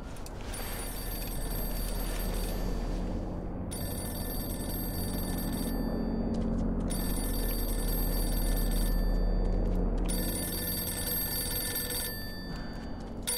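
A telephone rings repeatedly in the Mafia II video game, loud bursts of bright bell tones separated by short pauses over a steady low background hum.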